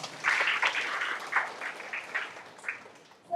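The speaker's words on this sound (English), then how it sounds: "Give a big round of applause." An audience claps at a colloquium session. The applause is moderate, a few seconds of scattered hand claps at medium distance that thin out toward the end.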